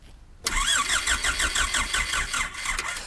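An Audi car engine cranks but fails to start, heard as a sudden loud starter motor churning with a steady rhythmic pulsing that runs on for about three seconds, close, no talk.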